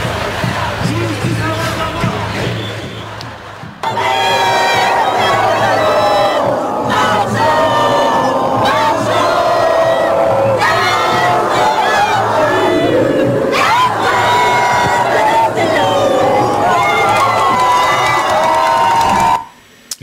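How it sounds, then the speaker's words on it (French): A large crowd at Place de la République sings La Marseillaise during a protest against racism, loud massed voices carrying for about twenty seconds with shouts mixed in. "une partie de la foule, et on va l'entendre, avait entonné la Marseillaise"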